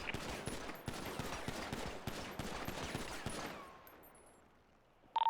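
Rapid gunfire at a shooting range in the GTA video game, a quick series of sharp shots emptying a magazine, then trailing off into quiet with a brief click at the end.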